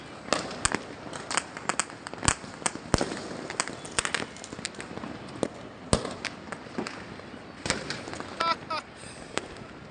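New Year fireworks set off from a rooftop, sharp crackling bangs and pops bursting irregularly in quick clusters, some near and loud, others fainter, with voices talking in the background.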